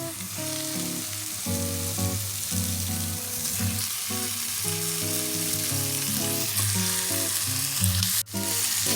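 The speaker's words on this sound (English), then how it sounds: "Now you can add in your ground beef." Ground beef fries loudly in a pan for a baked ziti, with a dense, continuous sizzle that stays close and steady, and a few stirring scrapes come through the hiss.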